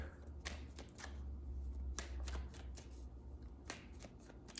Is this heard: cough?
no